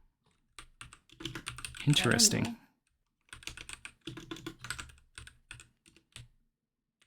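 Someone types on a computer keyboard in two bursts of rapid clicking separated by a pause, close and clear, with a brief spoken word partway through.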